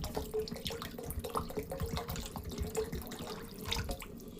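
Water pouring steadily into a cooking pot with a continuous, faint splashing trickle close by, ending on a small knock.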